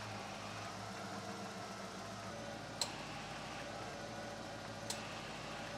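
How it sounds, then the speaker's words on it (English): A 1980-1996 Ford Bronco idles with a steady, low engine rumble and hum, joined by the AC compressor kicking on, with two sharp clicks at around three and five seconds. "the AC compressor should kick on."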